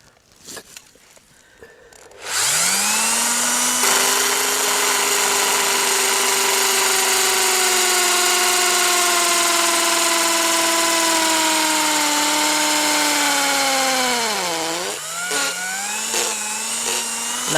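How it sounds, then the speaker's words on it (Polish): A power drill bores a hole into a birch tree trunk to tap sap, its motor whining loud and steady for about twelve seconds, then dipping in pitch as it bites deeper before slowing and stopping. "w którym miejscu będziemy wiercić otworek"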